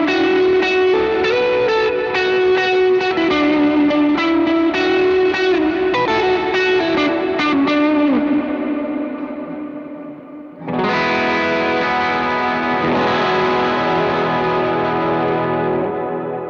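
Electric guitar run through a worship pedalboard with reverb, compression and distortion, playing sustained, heavily effected chords that wash together, cut off briefly, then swell back in loud and full.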